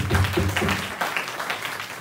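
A youth church congregation at a Sunday service gives a short round of applause. The clapping is moderately loud and fairly even for about two seconds, and a few voices can be heard mixed in.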